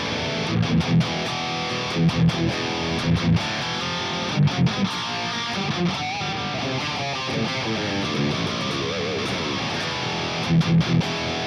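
A heavily distorted electric guitar plays loud, aggressive chords and riffs through a modified Friedman BE100 amplifier profile, with a gritty, saturated, biting tone and no voices.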